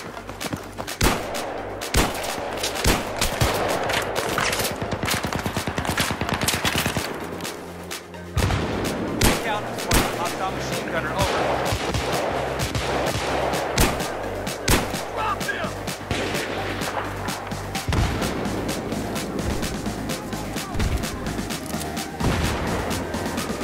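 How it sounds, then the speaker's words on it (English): Battlefield 3 match with a .44 Magnum revolver: dense, near gunfire cracks and reports fill the whole stretch, with a brief lull around the middle before steady firing and action noise resume. "I'm having the longest range 44 mag fight ever"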